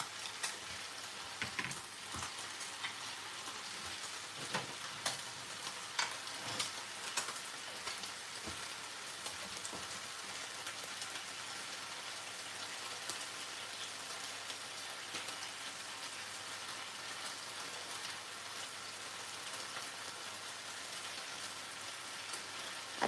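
Tocino sizzles steadily in a pan over a low flame in a home kitchen, a dense, even crackle with occasional sharper pops, with no talking.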